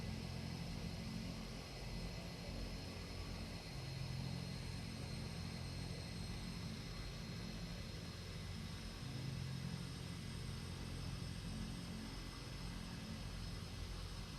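A simulated aircraft on runway 09 on a Caribbean island in a flight simulator, its steady engine drone holding faint and even throughout with no distinct change in pitch or level.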